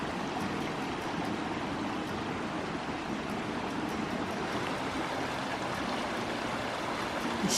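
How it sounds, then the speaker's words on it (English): Mountain stream in the aspen country above Santa Fe, New Mexico, rushing downhill toward a road culvert, a steady full broadband wash of flowing water, close and constant throughout with no voices. "The stream is coming down on both sides and going under the road."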